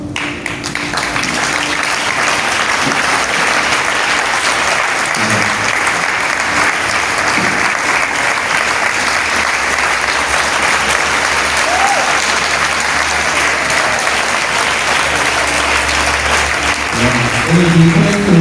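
An audience at a church charismatic renewal gathering applauds people standing to be honored, with steady, dense, loud clapping sustained throughout and a murmur of voices beneath it.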